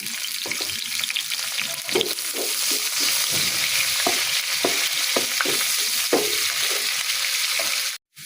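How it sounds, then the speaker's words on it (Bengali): Onion and garlic fry loudly in hot oil in a pan for a jute leaf dish, giving a dense continuous sizzle broken by repeated scraping stirs. The sizzle cuts off abruptly at the end. "বন্ধুরা পেঁয়াজ রসুন দিয়ে দিচ্ছি"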